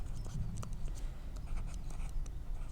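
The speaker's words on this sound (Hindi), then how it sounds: "इधर लिख देता हूँ मैं" Pen writing on paper while working through a maths problem, a soft continuous scratching with quick, repeated little strokes close to the microphone over a low background hum.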